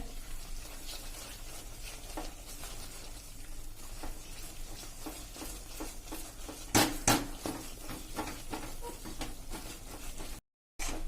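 Besan mixture is stirred continuously in a pan of ghee, giving soft sizzling and scraping with a couple of sharper clinks of the spoon against the pan partway through, faint and close, with no talking.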